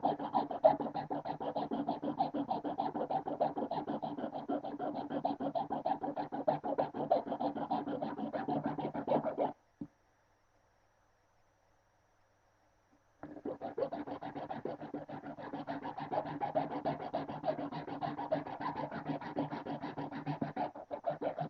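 A wooden duck figure is carved and scraped at the neck and head, giving a steady, close rasping scratch in two long bursts with a few seconds of silence between them.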